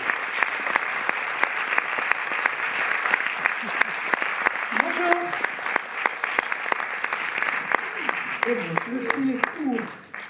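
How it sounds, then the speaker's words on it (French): An audience at the Paris Cinémathèque applauds the costume and set designer and guests at a screening of Agnès Varda's film, sustained clapping throughout with a few voices speaking over it near the end. "Merci de les applaudir."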